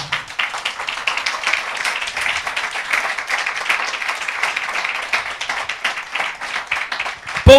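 A church congregation breaks into sustained applause in response to a preacher, a dense wash of many hands clapping at steady loudness throughout, with a brief louder burst at the very end.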